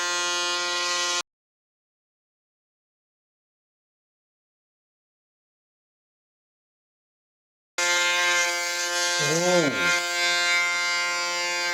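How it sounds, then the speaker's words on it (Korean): A Braun Series 9 Pro electric shaver runs with a steady, close mechanical buzz, cutting off for several seconds and then resuming with a brief wavering shift in pitch as it moves over the face. "이제 드디어 이 브라운 시리즈 9을 면도를 해보도록 하겠습니다."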